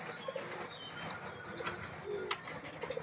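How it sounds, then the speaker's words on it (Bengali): Pigeons coo softly in a cage nearby, with low repeated calls and faint chirps over a steady background hum and a brief flutter. "পায়রা সুপার ডাক দেয়"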